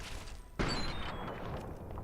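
A single sharp blast in Fallout 3 hits partway through and gives way to a sustained rumbling wash, consistent with gunfire and an explosion, with no voices in this moment.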